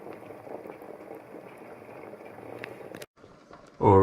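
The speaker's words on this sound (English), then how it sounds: "my beef bone soup, Fijian beef bone soup, suey, is just about ready. Just for the last few minutes, just while it's still bubbling away" Fijian beef bone soup (sui) simmers in a pot with a soft, steady bubbling hiss, close and quiet, briefly cut off before a louder bump at the end.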